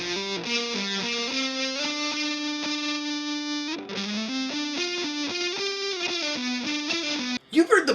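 An electric guitar played through a ProCo Rat distortion pedal gives a thick, buzzing, sustained distorted tone, with a melodic line of shifting and held notes throughout and a short break near the end.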